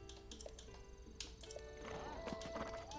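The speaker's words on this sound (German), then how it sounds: "Epona. Das große Pferd" Steady clip-clop of a large horse's hooves in The Legend of Zelda: Breath of the Wild, moderately quiet, with brief clicking and a faint whinny-like tone toward the end.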